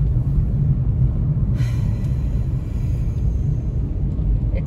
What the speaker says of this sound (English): The wind is so bad.